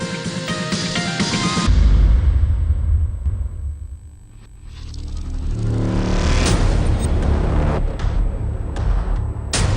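A cross-country race car doing hot laps on a 6-kilometre circuit at a vehicle testing facility, its engine rumbling loud and close, fading briefly as it moves away, then roaring back with revving and gear changes.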